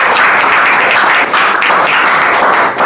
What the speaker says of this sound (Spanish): a todos los presentes les pido que le brindemos un gran aplauso